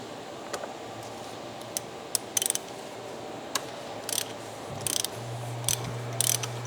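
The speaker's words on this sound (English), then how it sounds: "The oil filter housing, we're going to break that loose, and it's a 32 millimeter socket." A ratchet with a 32 mm socket turns on the oil filter housing of a 2020 Audi S5 Sportback, giving close, crisp clicking bursts in short irregular clusters over a quiet background hum.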